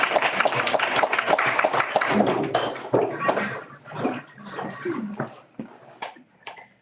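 Applause and clapping from an audience at a teen open mic poetry night, a dense burst of claps that gradually thins out and fades over several seconds.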